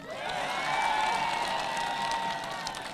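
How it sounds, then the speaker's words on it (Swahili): Audience at a thanksgiving service applauding a county director, a dense sustained burst of clapping from a crowd throughout, with faint voices mixed in. "Huyo apigwe makofi mzuri."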